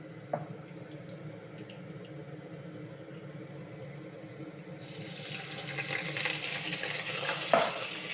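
Ginger garlic paste hits hot oil for palak paneer, starting as a low bubbling simmer that swells halfway through into a loud, broad, hissing sizzle, close and with no voices.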